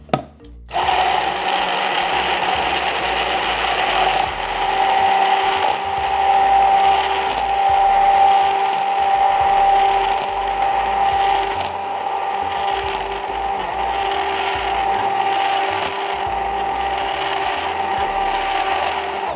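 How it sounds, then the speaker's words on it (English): A handheld immersion blender runs steadily, whipping a grits and goat cheese soufflé mixture toward stiff peaks, a close, continuous motor whine that shifts slightly in pitch as it works, with no talk. "kitchen blender, Immersion blender"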